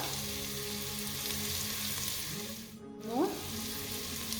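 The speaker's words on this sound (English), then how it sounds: "Saute the ginger garlic paste, garam masala" Ginger garlic paste with garam masala sautéing in a pan for tricolour pulao, a steady close sizzle with a brief dip and a stirring scrape near the end, no voices.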